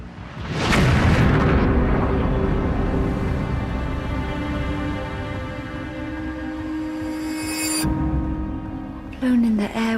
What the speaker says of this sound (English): It isn't long before an explosion destroys Darnley's bedroom, as seen in illustrations from the time.